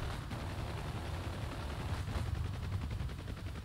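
Gunship guns firing in DCS, heard as a steady low rumble of continuous fire with a faint rapid rhythmic texture, fairly quiet and unbroken for the whole short stretch.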